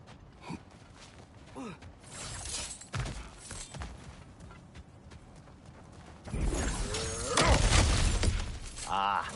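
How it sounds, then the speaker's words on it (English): Kratos smashes through cracked ground in God of War Ragnarok, a loud shattering crunch of breaking rock and rubble that builds near the end after scattered footsteps, scrapes and grunts. "Back to smashing through things for fun and profit"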